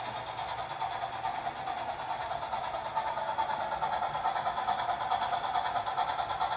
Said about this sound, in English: As the train travels via the track